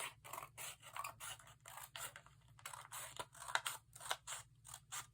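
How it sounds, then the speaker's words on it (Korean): Scissors snip through paper in a quick, uneven run of close, crisp cuts during a craft lesson shaping petals, with papery rustling between the strokes and no talking. "자, 이렇게 잘라주세요."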